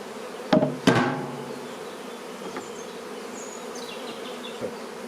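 Honeybees from an opened hive with a super drone in a steady low buzz close by, broken early by two sharp knocks from handling the wooden frames and box.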